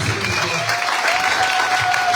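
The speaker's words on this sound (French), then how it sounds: "Applaudissez très fort le Seigneur" Congregation at a church service applauding loudly, dense steady clapping with a faint voice or tone mixed in underneath.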